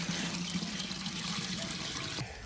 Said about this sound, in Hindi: नदी में पीने के लिए साफ पानी नहीं मिलेगा तो हम यहाँ से ले रहे हैं जो कि सोलर से चलता है